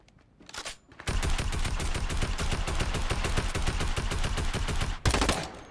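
Rapid automatic gunfire in Fortnite blazes in a dense, continuous burst for about four seconds, loud and close, bracketed by a couple of shorter shots before and after, with no talking.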